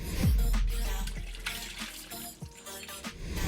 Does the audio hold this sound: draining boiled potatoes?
yes